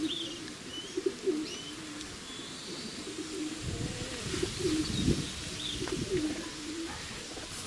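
Racing pigeons back at the home loft after a 633 km race from Dobiegniew, cooing softly and repeatedly at close range over a steady background hiss, with a few faint chirps from other birds.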